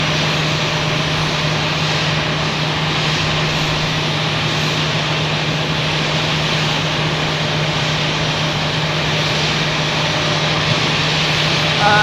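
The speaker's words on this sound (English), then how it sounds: "So this one was from Sacramento going to Phoenix, and it looks like it's starting up its engines. You can hear it." An airliner from Sacramento bound for Phoenix starts up its engines at an airport, a steady loud droning whine with a constant low hum that runs evenly throughout, heard from a distance.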